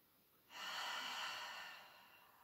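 A single deep breath during a yoga session, a soft, airy exhale that swells then fades over about two seconds, close and quiet.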